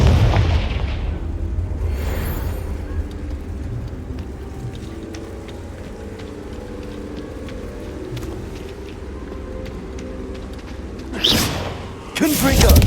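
Confringo spell explosions in Hogwarts Legacy, heavy booming blasts that swell at the start and again near the end, with a low rumbling battle bed and scattered impacts between them.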